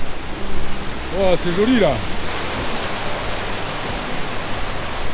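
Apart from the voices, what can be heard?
river flowing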